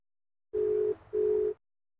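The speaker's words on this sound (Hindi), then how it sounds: "चलिए करते हैं फिर से कॉल।" Two steady tones of a phone ringback while a call is redialed, each about half a second long with a short gap between, clean and alone.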